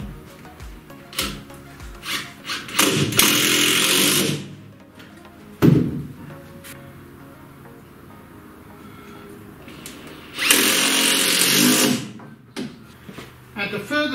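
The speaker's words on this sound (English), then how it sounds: "So I'm screwing it directly in" A power driver drives screws into a wooden base in two loud whirring bursts, with clunks and handling noises between them, heard close up.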